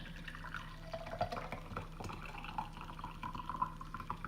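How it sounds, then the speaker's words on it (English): Tea pours from a French press coffee maker into a cup, a close liquid stream with intermittent drips and splashes over a faint steady hum, no talking. "I'll go ahead and pour this out here"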